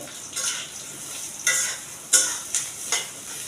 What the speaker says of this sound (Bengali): এবার আমি এই পুরাটা পেঁয়াজ দিয়ে দিব ভাজার জন্য